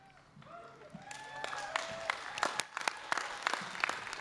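Applause from the audience at an engineering school graduation investiture starts sparse and quiet, then builds into scattered, sharp claps that grow louder and denser toward the end.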